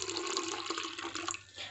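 Cooled boiled water is poured into a panakam drink mix in a continuous, close, gushing stream that tapers off at the end, with no talk.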